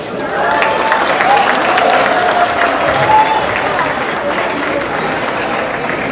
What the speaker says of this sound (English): So let's go ahead and give a round of applause for Mr. Marvin Lim.